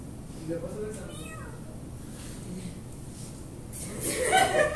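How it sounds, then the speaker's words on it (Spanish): In a classroom, a cat gives several strange, unusual meows, then a louder, longer one near the end, with people chatting and chuckling around it. "El maulla así todo raro, no maulla como un gato normal"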